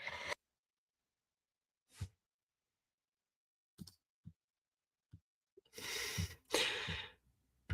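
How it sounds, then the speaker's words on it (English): Short breathy bursts separated by silence build into a loud, sharp sneeze near the end, followed by a second burst of breath. "I tried not to sneeze on the microphone."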